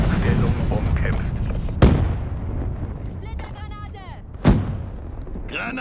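Enemy Lightning Strike airstrike in Call of Duty: Black Ops III: two sharp, booming explosions about three seconds apart, each ringing out over a dense, rumbling bed of battlefield noise, with brief synthetic game sounds in between.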